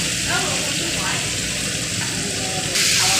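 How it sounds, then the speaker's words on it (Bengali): Chilli, cumin, coriander and turmeric powders fry in oil with tomato and green chilli, giving a steady close sizzle throughout that grows brighter near the end; a voice is faintly audible. "মশলাটা আমার কষানো হয়ে গেছে তেল বেরিয়ে গেছে"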